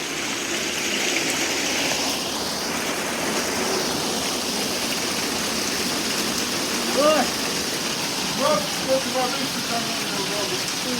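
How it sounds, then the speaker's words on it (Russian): Heavy rain downpour roars as a dense, steady broadband wash across the whole clip, with a few brief voices calling over it toward the end. "Ливень, ливень."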